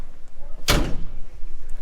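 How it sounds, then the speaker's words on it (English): A door slams shut once with a loud, close thud at a spot where birds are being fed, then a faint hiss and ambient background remain. "shut this door a minute"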